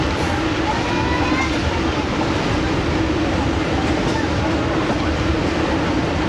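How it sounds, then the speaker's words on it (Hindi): A passenger train takes a curve on a flood route between Faisalabad and Lahore, a steady rolling rumble with faint wheel squeal, heard continuously from on board. "बहुत ही खूबसूरत नज़ारा, ट्रेन कर्व लेते हुए"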